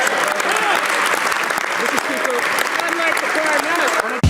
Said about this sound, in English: All of them applaud loudly.